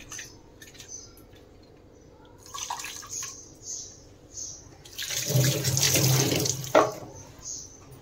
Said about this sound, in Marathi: थोडंसं पाणी आपण ह्याच्यामध्ये हे करून घालूया.